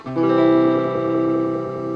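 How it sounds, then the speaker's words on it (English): A guitar amplifier's Sweep Echo effect produces a sustained tone with shimmering, swirling repeats. It holds steady and fairly loud for about two seconds, slowly thinning toward the end, with no talking. "Sweep Echo, which I don't know what that is, but it sounds like this."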